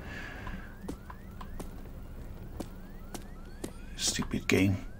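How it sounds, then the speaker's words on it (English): A faint police-style siren in the video game Rage 2 sweeps up repeatedly in the background, mixed with scattered clicks and a few louder bursts near the end. "That fucking siren's doing me in."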